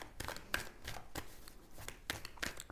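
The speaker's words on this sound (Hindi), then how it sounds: "अब हम कार्ड्स ड्रॉ कर लेते हैं" Tarot cards being shuffled and drawn by hand, a series of quick papery riffles and soft slaps in an irregular rhythm, close and fairly quiet, with no talking.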